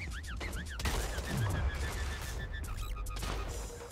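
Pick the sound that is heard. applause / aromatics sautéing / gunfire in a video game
gunfire in a video game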